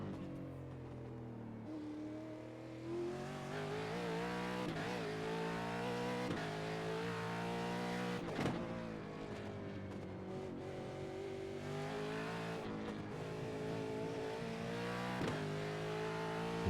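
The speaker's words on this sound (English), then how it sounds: "As soon as the car settles, start feeding that gas on." An onboard V8 race car from the V8 Vets series accelerating on track, its engine a loud, steady harmonic roar that rises and falls through gear changes for the whole stretch, with no talk.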